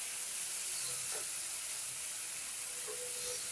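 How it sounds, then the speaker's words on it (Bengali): Spices for a rupchanda fish curry sauté in a pan with a little water, giving a steady close hiss and sizzle, with a few faint clinks of stirring and no talking. "এরপর সমস্ত মশলাগুলোকে আমি কষিয়ে নেব ভালো করে।"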